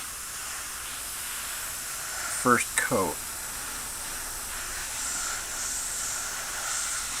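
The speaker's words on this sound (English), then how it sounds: "I'm spraying with my Iwata Custom Micron" An Iwata Custom Micron airbrush sprays paint onto a Dropzone Commander PHR miniature army with a steady, soft hiss. A brief spoken phrase cuts in partway through.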